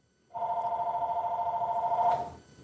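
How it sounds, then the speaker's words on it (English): A telephone rings once in a steady electronic warble lasting about two seconds, fairly close and clear in a quiet room. "And the phone rings as soon as I said that."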